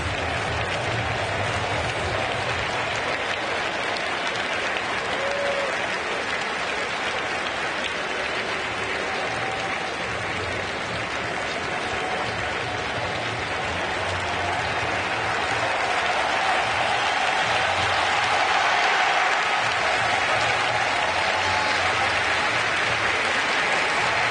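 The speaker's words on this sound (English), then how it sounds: "it gives them a chance to applaud Ichiro coming off the field" A baseball stadium crowd applauds a player coming off the field in an Oakland Athletics versus Seattle Mariners game, a dense, sustained wash of clapping and cheering heard from a distance, with a commentator's voice faintly underneath.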